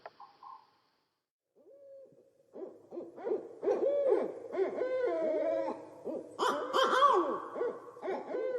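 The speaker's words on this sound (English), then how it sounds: "one kind of owl call, the hoot" An owl hoots in a series of wavering calls that grow louder and busier, overlapping hoots layered in quick succession with a brief pause early on.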